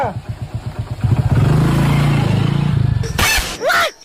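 A motorcycle engine revs close by, holding a steady throbbing drone for about two seconds before dropping off, followed by a couple of sharp, bright bursts.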